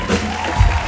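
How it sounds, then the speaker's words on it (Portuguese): Concert crowd cheering and applauding for a band, a brief burst of loud shouts and whoops with a low rumble underneath, close and full. "Aplausos pra essa banda!"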